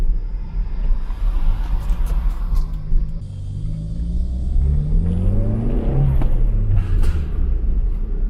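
A Toyota Turbo Starlet revs while driving through town streets, its engine note rising and falling in several rumbling sweeps over steady road noise, loud and close, with no talk.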